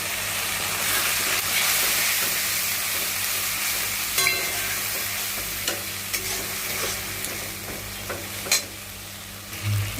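Poppy seed paste with green chili paste sizzles steadily in a pan after water is added, a continuous bright frying hiss with occasional stirring scrapes and small pops.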